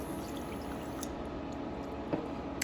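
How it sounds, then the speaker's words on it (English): Milk pours into a pot of melted butter on the stove in a steady, continuous stream, a soft liquid rush lasting a few seconds with faint clinks near the end. "We're gonna pour in some milk."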